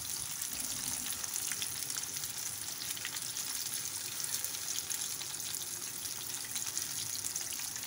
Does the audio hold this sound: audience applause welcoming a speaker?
no